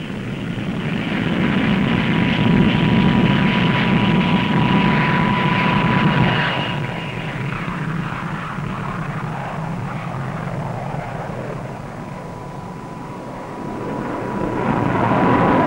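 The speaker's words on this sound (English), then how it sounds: "now protect the seas with the Navy's first operational jet fighter." A Supermarine navy jet fighter roars steadily overhead, a loud sustained engine rush with a faint whine that eases slightly midway and swells again at the end, with no voices.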